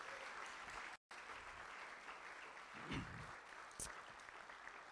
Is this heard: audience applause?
yes